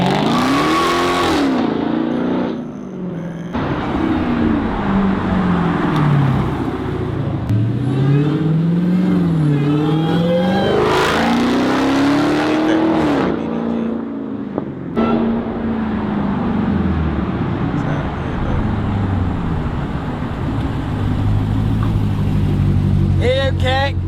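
A Dodge Hellcat Redeye revs and accelerates hard on launch, its engine whining up and down through several loud surges with tires spinning, while people talk over it throughout.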